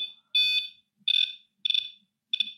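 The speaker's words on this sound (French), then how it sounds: "un nounours pod que je vais allumer tout de suite" Teddy bear pod, a ghost-hunting gadget, switching on and giving four short high electronic beeps separated by brief silences, close and clear in a quiet room with no talking.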